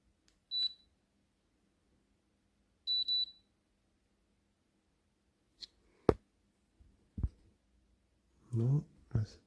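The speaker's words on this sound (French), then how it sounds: "attendre qu'un nouveau bip se fasse pour dire de pouvoir retirer le thermomètre" A digital fever thermometer gives two short, high electronic beeps a couple of seconds apart, followed by a few soft clicks and thumps of handling and a brief burst of voice at the end.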